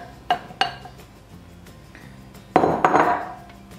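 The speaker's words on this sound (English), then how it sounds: "Now I'm gonna just add in my flour mixture here" Flour mixture tipped into pumpkin spice bread batter in a bowl, with a few sharp clinks of a utensil against the bowl, a quiet stretch, then a louder burst of scraping and clattering as mixing begins.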